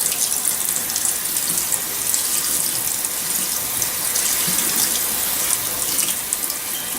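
Tap water runs steadily over black beans in a colander, a loud continuous splashing rush that lasts the whole stretch.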